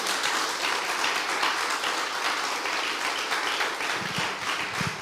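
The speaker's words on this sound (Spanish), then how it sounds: "denle un aplauso al Rey de Gloria esta noche" A church congregation at an evening preaching service applauds the King of Glory, a sustained roar of many hands clapping that stays even and full for several seconds, with a few louder close claps near the end.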